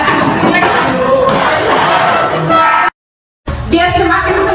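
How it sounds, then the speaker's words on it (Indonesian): A group of people in a school training session loudly doing a spirit clap and cheer, a dense burst of clapping and shouting voices, close and loud, broken by a brief cut to silence before the chanting resumes. "Biar semakin semangat kita tepuk semangat dulu"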